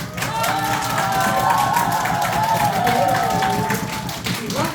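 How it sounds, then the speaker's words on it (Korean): A section of a laughter-therapy audience claps and cheers together in a steady, dense burst of applause that fills the room for a few seconds. "1분단만 박수 한번 듣게 해줘"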